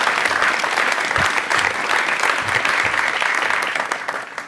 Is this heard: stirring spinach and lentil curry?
no